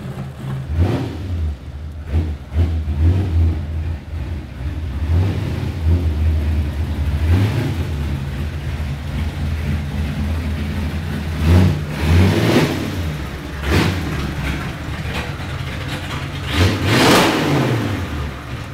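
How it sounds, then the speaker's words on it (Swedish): A trimmed 95 hp side-valve engine with twin carburetors in a 1960s-style hot rod revs repeatedly, rising and falling in loud, close bursts over a throaty idle, with no talking. "Under botten så är det 95 hästars sidventiler som är ganska trimmad med en rätt så vass gam, dubbla förgasare"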